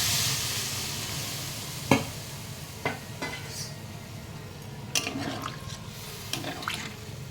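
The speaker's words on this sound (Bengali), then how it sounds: "আমি এখন পরিমাণ মতো জলটা দিয়ে দেবো।" A fish curry simmering in a pan after water is added, a steady soft sizzle and bubbling bed with occasional scrapes and knocks of a stirring spoon, fairly quiet and close, no speech.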